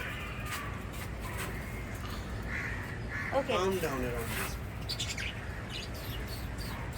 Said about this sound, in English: Oh, beautiful birds.